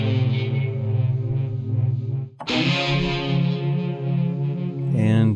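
A sustained, heavily distorted guitar sample buzzes loudly, cuts out briefly, then returns with a harsher, brighter edge, rich in gritty overtones.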